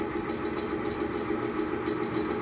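An engine with its oil drained runs on a lubricity test rig under load, giving a steady, droning mechanical hum with constant vibration and no speech over it.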